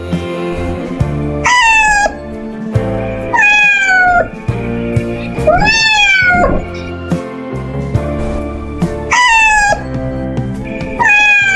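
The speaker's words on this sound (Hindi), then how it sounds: "भूख से जैक की हालत खराब हो गई और वह रोने लगा" A hungry kitten cries over and over in loud, drawn-out meows with rising and falling pitch, a series of close plaintive calls separated by short pauses.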